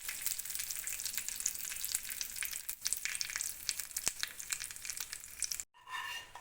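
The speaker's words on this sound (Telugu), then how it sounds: "వేగిపోయాయి కదా, ఇందులో కర్రీ లీవ్స్ వేసుకున్నాము" Curry leaves sizzle in hot oil as a tempering for garlic, onion and tomato chutney, crackling steadily up close with a scrape of stirring. The sound drops out abruptly near the end and then resumes faintly.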